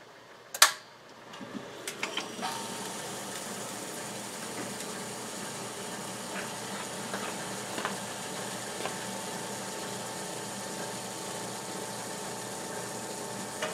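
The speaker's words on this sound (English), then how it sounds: "the well pump should start" A well pump controlled by an Amtrol Guardian CP digital solid-state pump switch starts with a sharp click, then settles into a steady, even mechanical hum with faint ticks, running continuously and alone.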